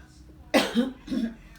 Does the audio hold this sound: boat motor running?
no